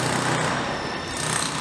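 Continuous loud mechanical drilling from street works in Prague, a steady roaring rattle with no pauses, nearby and filling the whole short stretch.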